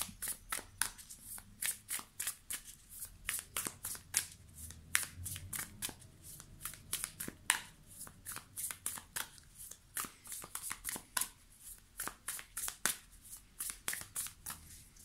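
Tarot cards being shuffled and laid out by hand: a long run of quick, crisp riffling flicks and slaps with an uneven rhythm, close and fairly soft, with no talking over it.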